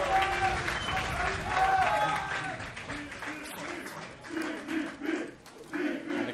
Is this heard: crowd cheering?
yes